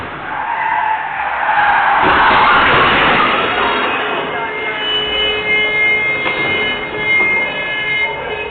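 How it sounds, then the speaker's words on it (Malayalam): A speeding car overtaking during a film chase scene shoot on MG Road in Kochi, striking another car and overturning: a loud, sustained tyre skid and engine roar that swells early and then fades. "വേഗത്തിലെത്തിയ കാർ ഓവർടേക്കിങ്ങിനിടെ സമീപമുണ്ടായിരുന്ന മറ്റൊരു കാറിലിടിച്ച ശേഷം റോഡിലേക്ക് മറിഞ്ഞ്"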